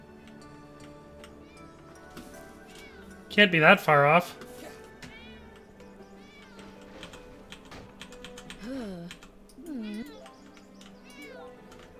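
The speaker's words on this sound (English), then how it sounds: "I hear her meowing." A cat meows in the fantasy role-playing game Divinia Chronicles: Relics of Gan-Ti, with a loud burst of several meows followed by fainter, more distant calls, under a player's talk and light ticking.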